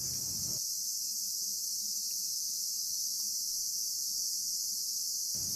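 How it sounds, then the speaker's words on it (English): Summer cicadas buzz in a continuous high-pitched drone, loud and unbroken from start to finish, with a faint low rumble underneath at the edges. "This next one focuses on the sounds of cicadas in the summer."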